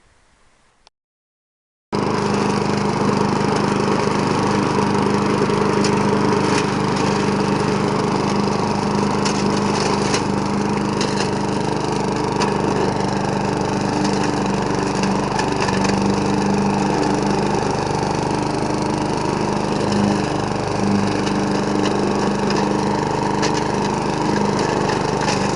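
A homemade leaf plow, engine-driven, roars steadily as it chops leaves, with a loud continuous drone and scattered crackling bursts after a brief quiet start.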